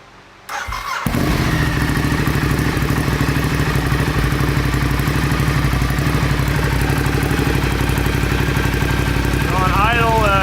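A Ducati Diavel motorcycle fitted with a Remus slip-on exhaust and no decibel killer fires up after a brief starter crank, then settles into a loud, steady, throbbing idle close by.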